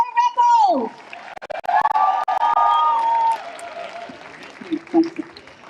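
An audience claps and cheers for a speaker at a live outdoor rally, the applause swelling briefly and fading under a voice and other crowd noise.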